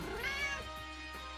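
In a video game, a cat gives a single drawn-out meow that rises and then falls. It comes through clearly and close, with no talk over it.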